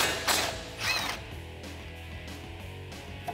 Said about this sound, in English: I'm going to use a 12 millimeter socket.